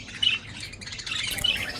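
Lutino budgerigars chirping among other budgies; a couple of bright, high twitters rise out of a soft, steady chatter of birdsong, quiet and fairly close, with no voices.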